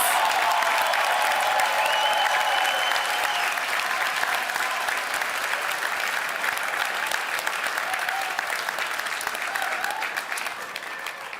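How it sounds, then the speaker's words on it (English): A big round of applause for contestants at an online livestreamed competition day, a dense, even wash of clapping from a crowd that holds steady for the whole stretch and tapers a little at the close. "Give them a big round of applause!"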